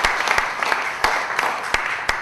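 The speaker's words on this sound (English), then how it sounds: "I wish you to give him a big round of applause" A conference audience applauding a speaker, a short burst of scattered, fairly sparse hand claps with a few sharp individual claps standing out.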